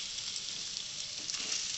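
Aloo kachori potato filling, seasoned with salt, is mixed in a hot pan, producing a continuous close sizzle with light scraping stirs and no talking.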